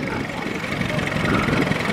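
A pre-war Morris Cowley six-cylinder vintage car at a steam rally runs steadily, its engine chugging in a dense, continuous idle close by, with a busy outdoor murmur blended in.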